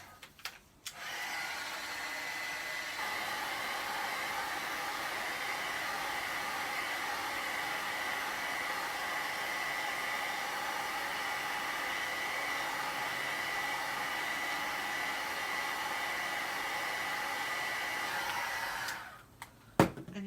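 A hair dryer blows steadily on an object for nearly twenty seconds, a loud, even whooshing drone that switches on abruptly at the start and cuts off near the end, with no talking.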